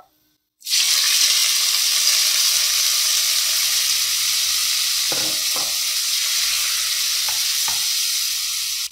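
Wet king prawns drop into hot oil with curry leaves for a Keralan curry, setting off a sudden loud hiss that stays as a strong steady sizzle, with a few soft stirring scrapes, close up and without talking.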